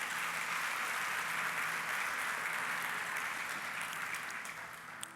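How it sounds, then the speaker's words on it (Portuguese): Church congregation applauding together at a worship service, a steady dense wash of clapping that holds for several seconds and then starts to fade. "Aplauda Jesus mais uma vez."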